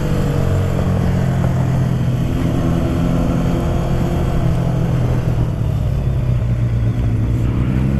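A CB500 motorcycle descends a winding mountain pass road, catching up with a sport bike; its engine drones loud and steady throughout, the pitch gently rising and falling with wind rush.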